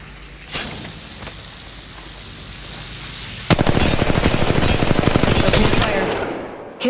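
Rapid automatic gunfire in the mobile battle royale game Apex Legends Mobile, preceded by a few seconds of quieter game ambience and an isolated shot. Then a loud, sustained burst of fast shots runs for about three seconds before fading.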